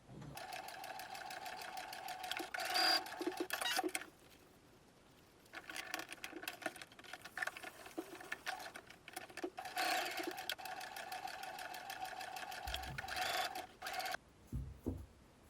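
A sewing machine stitches the bottom seam of a fabric camera pouch in quick, close-miked runs of rapid needle clatter, broken by short quiet pauses, with a small thump at the end.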